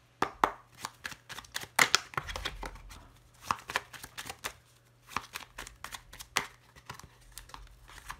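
Tarot cards shuffled by hand nearby, a long series of quick crisp riffling and slapping bursts in uneven rhythm, fairly quiet with no talk.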